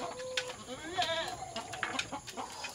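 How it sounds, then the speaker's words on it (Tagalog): A goat bleats once amid other farmyard sounds, with chickens clucking nearby; the sounds are faint and scattered. "At yung alaga natin iba, nandito. Kambing."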